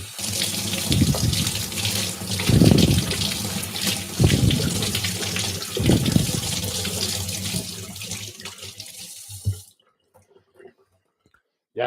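Tap water runs steadily into a sink for about ten seconds as a cut hand is rinsed, then stops abruptly and leaves near silence.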